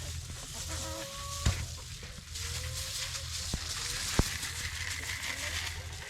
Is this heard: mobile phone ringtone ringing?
no